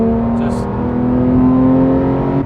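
A manual Porsche 911 GT3 (991.2) engine holds a loud, sustained high-pitched howl as it revs toward 5,500 RPM, a dense steady drone heard from inside the car.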